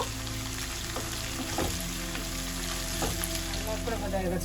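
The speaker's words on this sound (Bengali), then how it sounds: "পেঁয়াজটা লাল লাল করে ভাজা হয়ে গেছে" Chopped onions fry to a reddish brown in a pan, a constant close sizzle with occasional soft stirring clicks over a low hum.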